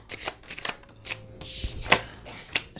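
Playing cards shuffled during a tarot-style reading, a series of crisp riffling bursts and flicks at close range with brief pauses between them, no voices over them.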